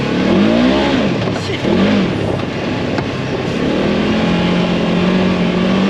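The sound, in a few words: Polaris RZR 1000 side-by-side revving at full throttle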